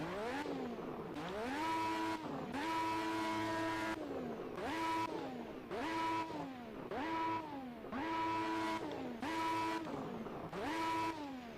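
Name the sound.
Lotus 98T engine sound at Nürburgring in racing video game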